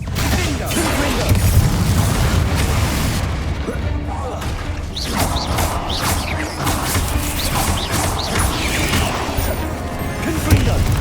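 Confringo fire-blast spells going off in Hogwarts Legacy: repeated booms and crashing impacts with whooshes amid busy game combat sounds, a voice calling out over the action now and then.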